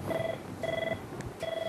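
Telephone ringing with an incoming call during a Thai broadcast program, three repeating electronic ring bursts evenly spaced over a steady low background hum.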